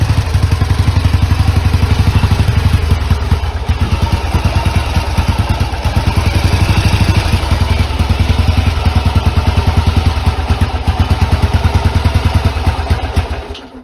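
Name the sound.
engine spitting and sputtering while trying to run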